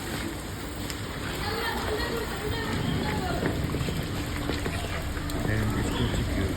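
Steady rain pours over a street in Dhaka where boys play football in the mud, a dense continuous wash of noise that holds even and fairly loud throughout, with no clear voices on top.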